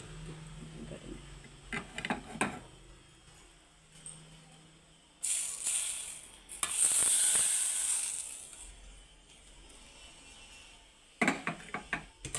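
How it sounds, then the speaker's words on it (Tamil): Hot ghee poured into mung bean murukku dough sizzles in loud hissing bursts, with softer scraping and stirring between them, close up in a kitchen. "போட்டு நல்லா ஊற்றி நல்லா கிளறிக்குவோம்"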